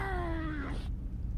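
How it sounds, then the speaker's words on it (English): A feral cat lets out a drawn-out, falling yowl over a rough, noisy background, and the cry breaks off abruptly partway through. "I think there's a feral cat in there and he's fighting it."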